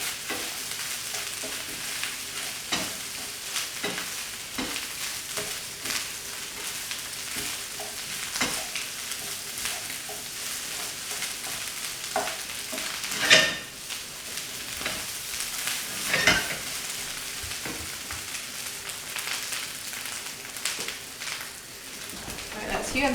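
Egg fried rice sizzles steadily in a pan, with repeated scraping stirs and occasional louder clatters of the utensil, while a person talks over the cooking.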